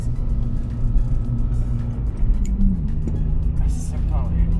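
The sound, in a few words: car driving on road in the rain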